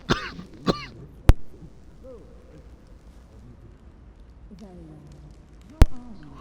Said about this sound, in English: Whew, excuse me, I had a coughing fit.